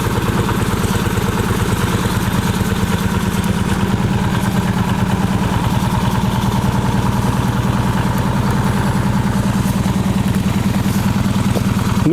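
A walk-behind tractor engine runs steadily at close range, a loud continuous chugging with a fast, even pulse that holds for the whole stretch without talk.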